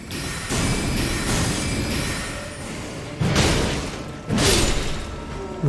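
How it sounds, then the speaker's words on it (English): Hits against a tree in the Elden Ring video game: dense, crunching impacts with whooshing noise, two heavier thuds standing out later, loud and without talk. "when I hit a tree, it makes a sound like this"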